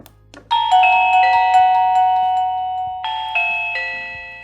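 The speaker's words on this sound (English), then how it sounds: "Testing the Reolink Doorbell." A Reolink video doorbell chime rings out a clear multi-tone melody, then repeats it; bright electronic tones, loud and close, with no talking.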